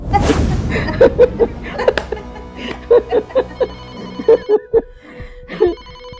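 A phone ringtone plays its melody again and again in a family drama scene, loud and close, with brief chuckles and voices in between.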